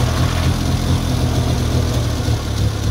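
Turbocharged Nissan Z31 engine idles steadily after a turbo swap, giving a continuous, close, rough low rumble with no talking.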